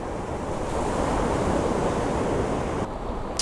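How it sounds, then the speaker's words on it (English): Ocean surf breaks and washes steadily on a beach at night during a fishing session, a dense continuous roar with a slight drop near the end, no voices. "listening to the sounds of the waves"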